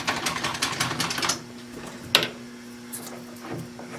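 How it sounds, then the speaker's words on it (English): A countersink bit cuts into a hole in a taper lock hub, a short, rapid chattering burst of machining up close that stops, followed by a few quiet clicks and knocks. "Get a countersink in there. And countersink it."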